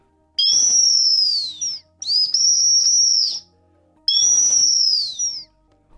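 A clay whistle gives three long, bright whistled calls imitating an eagle, with a rising-then-falling sweep, each about a second and a half, separated by short pauses.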